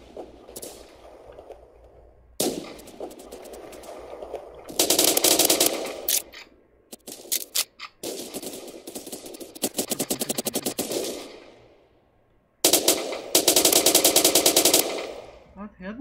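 Automatic and rapid gunfire in the Roblox shooter Phantom Forces, loud bursts of fire in several long volleys with short gaps, echoing between quieter stretches.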